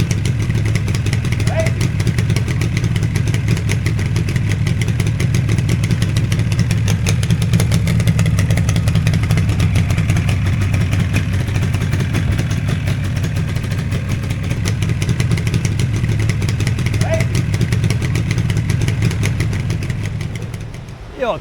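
A Yamaha RD400 motorcycle engine, just kickstarted, runs steadily and loudly with a rough, clattering idle throughout, while a voice speaks briefly over it.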